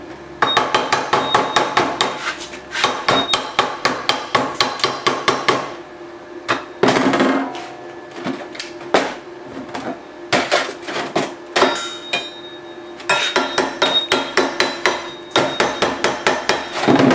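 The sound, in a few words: hammer chipping welding slag off a gate rod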